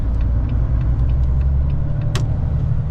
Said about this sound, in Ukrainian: Насичений трафік на об'їзній.